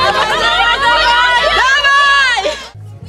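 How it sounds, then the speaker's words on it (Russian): Parents cheering and shouting excitedly from the sidelines of a preschool children's field hockey game on grass, a busy overlapping crowd of voices with high cheers, loud and sustained before cutting off abruptly. "За пределами поля активные болельщики-родители."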